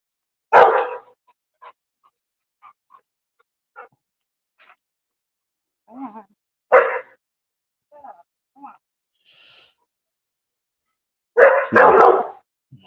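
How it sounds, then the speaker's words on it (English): A dog barks in short, separate bursts from nearby, loud against a quiet background, with soft yips and whimpers in between. "Sorry, my dog is barking."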